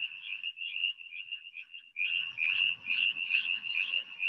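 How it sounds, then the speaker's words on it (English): Frogs at a pond keep up a continuous, pulsing high trill, with a brief dip before a second chorus joins in slightly louder and denser, low rustles faint underneath. "hopefully you can hear those frogs"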